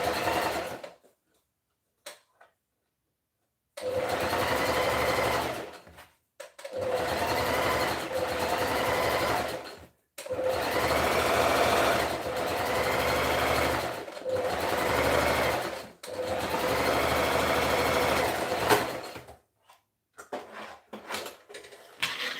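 A sewing machine with a tiny needle stitching light fabric for a skirt runs in several steady whirring bursts of a few seconds each, separated by short pauses, with a scatter of quick clicks at the end.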